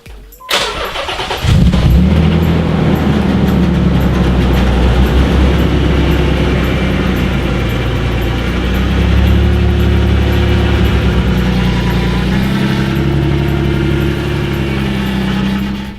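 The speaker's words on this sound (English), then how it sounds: "my car's a little weird noised because my power steering is fucked" A Nissan 300ZX engine with faulty power steering starts and settles into a steady, rough running drone with an uneven, slightly strained tone, close by and loud, no talking.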